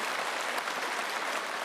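Masked delegates in the Great Hall of the People applaud together, a soft, even wash of many hands clapping heard from a distance.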